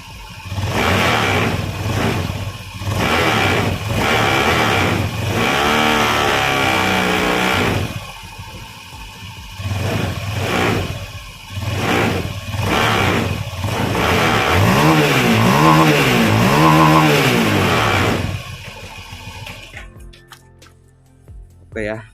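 A nearby automatic scooter engine with freshly fitted CVT parts is throttled repeatedly, revving up and dropping back in loud bursts before settling, while someone talks over it.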